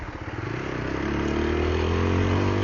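A TVS Apache RTR 160 4V motorcycle engine runs close by, its pulsing exhaust rising in pitch as the revs climb over a few seconds, with no talk over it.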